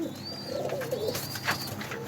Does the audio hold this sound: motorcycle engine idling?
no